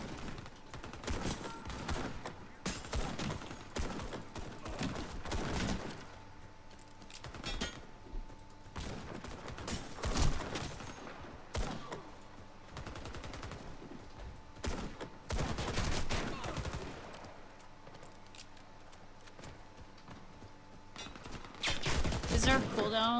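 Gunfire in the Warface shooter game comes as repeated bursts and single shots in irregular clusters, some sharp and close, under occasional voices talking.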